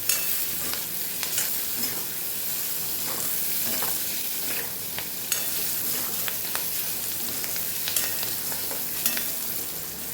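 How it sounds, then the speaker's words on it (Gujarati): Lotiya chillies sauté in a pan with turmeric, coriander-cumin powder and salt, giving a steady close sizzle of frying with scattered crisp ticks and scrapes of stirring, alone without talk. "મરચાંને પહેલાં થોડા સાતડી લેવાના છે આપણે."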